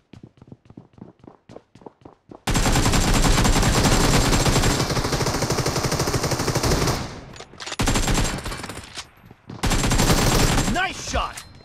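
Rapid automatic gunfire in the mobile shooter BGMI sounds loud and dense after a run of quick footsteps, with brief gaps and a final burst close up.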